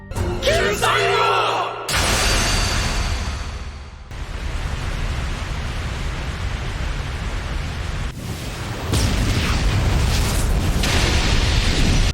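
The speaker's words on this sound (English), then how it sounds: "After that, Yuji cast protective magic to block the explosion from the flames" Anime fire explosions blast out as loud, sustained roaring bursts of rushing flame and noise, with a sharp onset, a few surges and drops, and heavy booming lows throughout.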